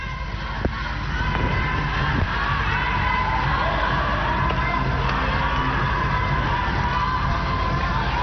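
Fans cheer at a women's volleyball bronze-medal match at the 2014 Asian Games, a steady, broad crowd roar with shouts and whoops rising from both sides of an indoor arena.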